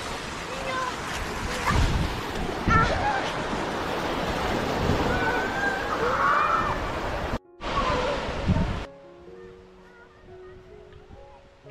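Sea waves wash in at Mandarmani beach in the morning: a broad, rushing surf roar with wind buffeting the microphone, which cuts out abruptly near the end and leaves faint tonal music.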